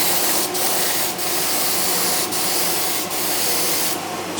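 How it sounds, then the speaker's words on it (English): A Graco HVLP 9.5 spray gun, turned down low, sprays paint onto a workpiece edge in a small workshop, a steady close hiss broken by brief pauses as the trigger is released, with no talking. "So I'll spray the edge and I'll show you."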